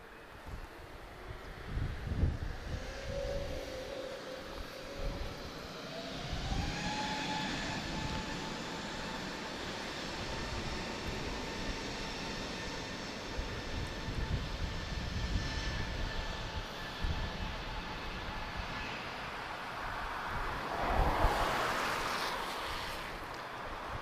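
An EasyJet Airbus A320neo lines up on a runway at Lisbon Airport, its engines giving a steady, fairly distant whine and rumble with a rising tone, swelling briefly near the end.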